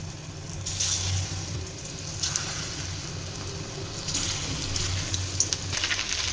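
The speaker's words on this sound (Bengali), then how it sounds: "তো এইভাবেই আমি অল্প তেলে ভেজে নেব। সানফ্লাওয়ার অয়েলে ভাজবো, কোল্ড প্রেস সানফ্লাওয়ার অয়েল।" Chicken shallow-frying in a small amount of cold-pressed sunflower oil, a steady close sizzle and crackle with brief louder spits, no talking.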